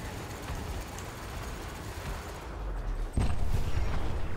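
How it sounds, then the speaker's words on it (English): Spaceship multi-cannons fire on a target whose shields are down in Elite: Dangerous, a dense rapid barrage that suddenly grows louder and heavier near the end of the burst. "My multi-cannons are pretty powerful"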